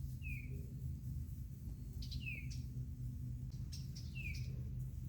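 Small birds at a nest box in a backyard give three short, high chirps spaced about two seconds apart over a low outdoor rumble, fairly faint and with no voices.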